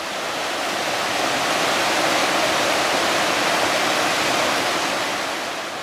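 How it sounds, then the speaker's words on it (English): Steady roar of the Nolichucky River rushing by in winter near ice cascades, a loud continuous broadband wash of water with no breaks and no voices. "You can hear the Nolichucky River"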